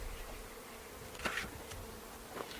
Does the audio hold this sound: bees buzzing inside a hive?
yes